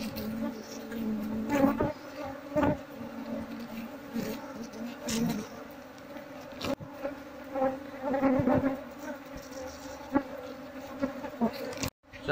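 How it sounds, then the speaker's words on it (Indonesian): Dense, steady buzzing from a wild bee colony close by, a continuous droning hum with occasional louder passes near the listener. "Ini koloni lebahnya."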